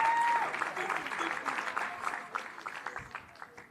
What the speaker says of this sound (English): Colleagues, let's give them a good round of applause.